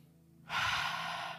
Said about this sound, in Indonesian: Coba tarik napas kita.